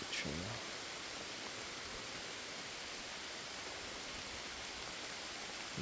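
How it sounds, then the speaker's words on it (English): Heavy rain falls in the woods, a dense, steady wash of drops hissing through the trees and hitting the ground, continuous and enveloping with no voices. "Started raining pretty good now."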